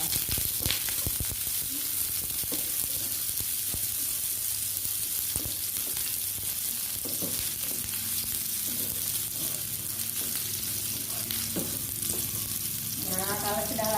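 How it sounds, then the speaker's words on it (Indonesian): Shallots frying in hot oil over low heat, a steady close sizzle with occasional stirring clicks and a brief bubbling flare near the end. "Pertama kita goreng bawang merahnya dulu. Ini sudah panas minyaknya. Digorengnya dengan api kecil saja."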